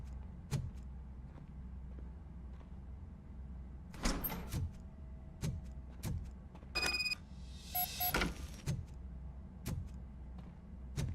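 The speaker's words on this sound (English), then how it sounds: "Now let me get that door open for you." A door slides open in the RoboCop: Rogue City video game, a mechanical whir and rattle heard over heavy, regularly spaced footsteps and a low game ambience hum, with a brief electronic chirp near the end.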